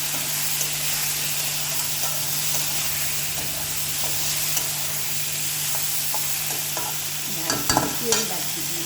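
Hilsa fish head cooking with taro, pumpkin and eggplant in a pan, a continuous sizzle and frying hiss with occasional stirring scrapes and a few sharper clatters near the end.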